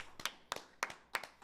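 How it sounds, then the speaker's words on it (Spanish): A handful of people clap in short, sharp bursts, about five quick spaced groups of claps, near but fairly faint, for a podcast guest. "¡Aplausos, banda!"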